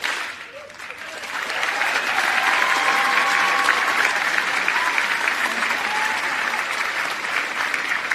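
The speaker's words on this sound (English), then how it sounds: "They perfected this mode of clapping at Prize Day, so it's perfect." A large commencement audience applauds graduates at a school graduation ceremony, a dense, steady wash of many hands clapping that swells after a brief dip and holds loud and even throughout.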